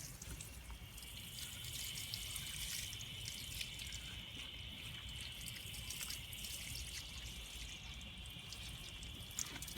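Steady trickling tap water runs into a container for watering plants, a continuous soft stream with faint splashing and no voices.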